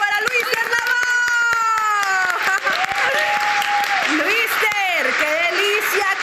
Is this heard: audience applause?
yes